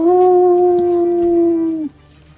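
A second wolf howl, played as a sound effect in a Dungeons & Dragons session set in a wood, forms one sustained, loud tonal cry that drifts gently lower before stopping sharply, with nothing else heard.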